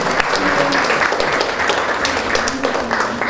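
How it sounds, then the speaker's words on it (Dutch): Audience applause at a children's council meeting of Gemeente Lingewaard, a steady wash of clapping from a room of people lasting a few seconds, with some voices mixed in. "applaus"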